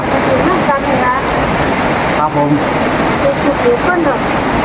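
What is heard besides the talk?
rain falling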